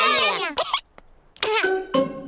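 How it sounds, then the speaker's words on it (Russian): A cartoon piglet character in a Peppa Pig episode coughs sharply a few times in quick bursts, close and clear, with brief bits of character speech around the coughs. "Кашель у Педро заразный."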